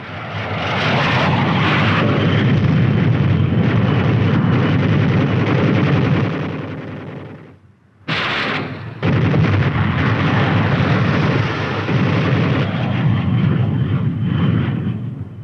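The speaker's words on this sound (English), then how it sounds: "next flight uses machine guns and rockets." 1950s US Army military aircraft firing machine guns and rockets, a loud continuous roar of engines and bursts of fire with a brief sharp blast after a momentary drop, then sustained heavy noise again.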